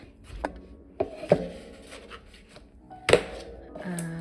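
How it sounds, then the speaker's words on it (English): A slab of white cone 5-6 stoneware clay is rolled out by hand, giving scattered thumps and soft rubbing contacts at an uneven pace, loud and close. "So this is a white stoneware 5 to cone 6. I'm just going to roll it out."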